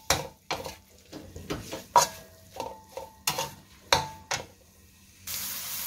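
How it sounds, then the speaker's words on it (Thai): Pork stir-frying in a pan for Thai pumpkin curry, with a spatula scraping and clanking against the metal in a regular rhythm about twice a second over a soft sizzle, ending in a brief steady hiss. "ผัดหมูให้สุกก่อนนะคะ"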